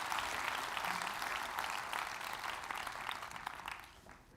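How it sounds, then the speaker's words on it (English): Applause for a management team at a company plenary, a room full of people clapping steadily at moderate volume, tapering off toward the end. "can you please give me a huge round of applause?"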